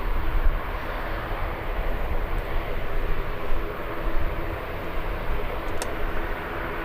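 An aeroplane at Birmingham Airport roars steadily and loudly as a broad, continuous engine rush with no let-up, heard alone without voices.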